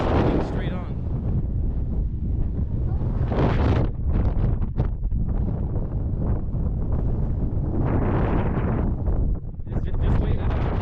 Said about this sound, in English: Wind is moving straight on.